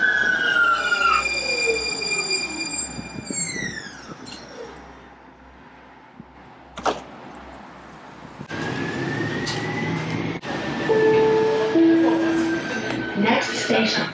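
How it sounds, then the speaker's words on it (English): A light rail train pulls into a station, its wheels squealing in long, high, drawn-out tones over a rumbling, close roar, with a brief sharp clank midway as the car passes. "And there's the train."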